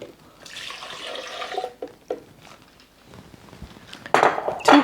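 Milk is poured into a Blendtec blender jar, a soft liquid splashing and trickling with a few knocks, getting louder and splashier in brief bursts near the end.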